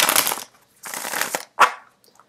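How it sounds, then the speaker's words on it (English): Tarot cards are shuffled on a hard surface in two close, crisp riffling bursts of about half a second each. A single sharp tap follows as the deck is squared on the table, then the room goes quiet. "So I have to put something hard here so I can shuffle on top of it."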